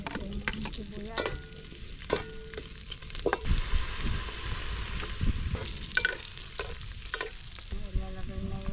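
Garlic and onion sauté in hot cooking oil for a chicken afritada with cassava: close, continuous sizzling broken by repeated scrapes and clinks of a utensil stirring the pan.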